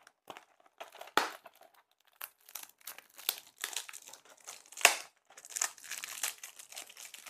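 Crinkly packaging of tea bags rustles close up in irregular bursts of crackling and crumpling, with short pauses between handlings and no voices.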